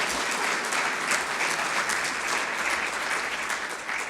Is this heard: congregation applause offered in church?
yes